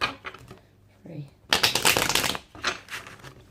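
Tarot cards are shuffled in quick riffling bursts, a short flurry early, a longer louder burst in the middle and another toward the end, with a voice speaking briefly between them.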